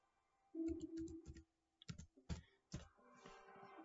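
Keys tapped on a PC keyboard while typing a short message into a game's chat, a few quick clicks in short bursts, close and moderately loud with pauses between strokes and a faint low hum beneath.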